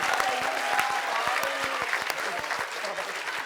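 A studio audience on a comedy variety show claps in a dense burst, with sharp individual claps standing out from the steady roar and voices faintly underneath.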